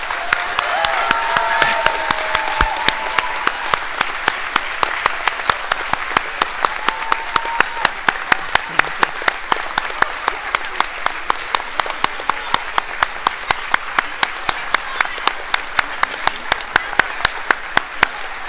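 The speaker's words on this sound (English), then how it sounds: "Can you guys give her a huge round of applause?" An audience at a school band concert claps for a retiring teacher in a long, sustained round of applause, dense and steady, with some rhythmic unified clapping and occasional cheers mixed in.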